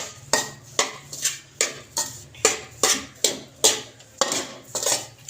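A spoon scrapes and knocks rhythmically against a pan while ghee is stirred into atta halwa, about a dozen even strokes roughly every half second, close and fairly loud.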